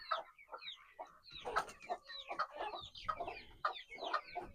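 Backyard chickens cluck close by, several birds making short, uneven, overlapping clucks and calls throughout, with no talking.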